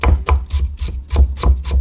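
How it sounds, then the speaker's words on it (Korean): A knife chops thinly julienned potato strips on a cutting board in a home kitchen, giving a fast, steady rhythm of close, loud blade knocks, about seven strikes in under two seconds, with no voice. "채를 썬 다음에 살짝 다져줄 거예요."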